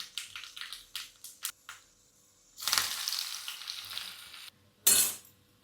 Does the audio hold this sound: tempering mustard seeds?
yes